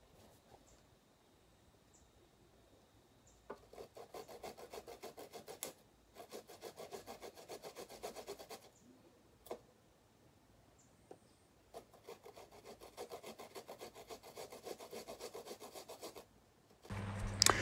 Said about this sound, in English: So guys, I am gratering the turmeric.